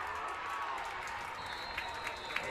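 Football fans cheer along the sideline at a Grafton vs. Wisconsin Lutheran high school game: a steady, wide crowd roar with scattered claps, held at an even level throughout.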